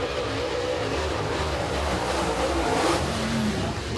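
A super late model race car circles Eriez Speedway alone during qualifying, its engine roaring steadily and loud throughout with a sustained, rising revving drone.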